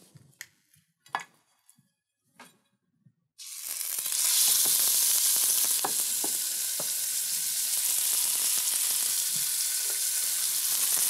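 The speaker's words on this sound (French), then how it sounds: "Dans la cocotte chaude, je verse un bon filet d'huile d'olive et je mets ma viande en cuisson." A veal roast hits hot olive oil in a casserole after a few quiet handling clicks, erupting into a loud, steady sizzle that continues with occasional spatula scrapes.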